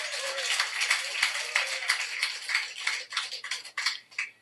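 A church congregation claps during worship, a soft, fairly close patter of hands that grows more uneven and scattered toward the end.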